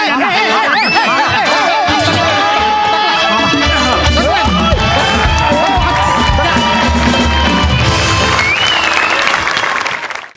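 A comedy show audience claps hard and steadily for about ten seconds, loud and dense, with cheers and whoops mixed into the applause and music and voices underneath.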